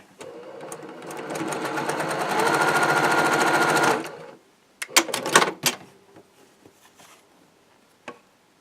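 Sewing machine running a steady fast stitch for about four seconds as fabric is fed against a seam guide, then stopping, followed by a few close clicks and handling knocks.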